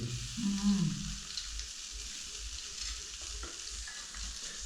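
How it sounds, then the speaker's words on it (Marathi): A tempering (phodni) crackling and sizzling in a pan as it is stirred, a soft, steady frying hiss with faint stirring scrapes, heard alone. "झाली फोडणी तर झाली"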